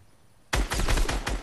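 Gunfire in a video game, a sudden burst of rapid sharp shots starting mid-clip after near silence, loud and close with no talk.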